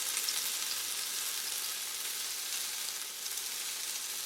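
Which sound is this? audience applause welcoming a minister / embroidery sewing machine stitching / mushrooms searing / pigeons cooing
mushrooms searing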